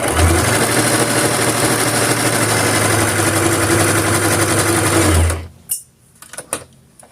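Sewing machine stitching along the original seam lines of a steering wheel cover, a steady fast loud whirring run for about five seconds that stops abruptly, followed by a few light clicks and handling sounds.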